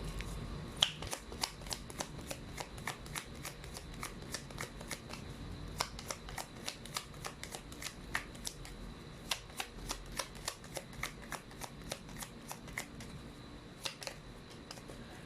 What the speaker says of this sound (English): Let me pull up two more cards before we continue.